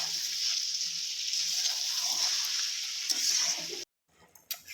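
Fried potatoes stirred into a meat curry in a hot pan give a steady, moderately loud sizzle with soft scraping for about four seconds before cutting off, followed by a few faint clatters.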